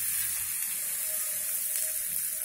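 Hot tempering poured into amla pickle, sizzling and hissing loudly and steadily throughout, close up, with no voices.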